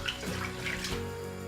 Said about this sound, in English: So I'm going to add the extra stock